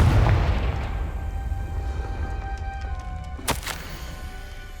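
A Confringo fire spell cast in the Hogwarts Legacy video game: a deep rumbling boom at the start that fades, then a sharp crack near the end over soft sustained musical tones.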